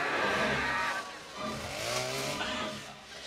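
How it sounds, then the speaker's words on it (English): A hedge trimmer attack scene in the 1988 horror film The Blob brings a loud, buzzing motor whine that rises and falls in pitch over a short burst, mixed with film soundtrack noise. "He's gonna get the camp counselor with the hedge trimmer."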